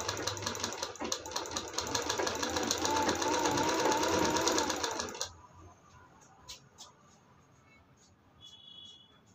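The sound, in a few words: sewing machine stitching a long-sleeve blouse belt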